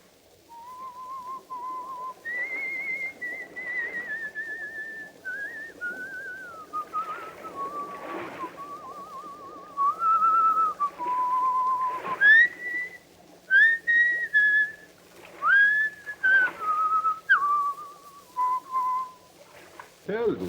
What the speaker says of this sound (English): He will pass the word Blackstone and whistle Annie Laurie.